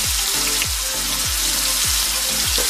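Steak sizzles loudly in a hot, smoking grill skillet, a constant bright hiss with rhythmic low thumps repeating about every two-thirds of a second, no voices.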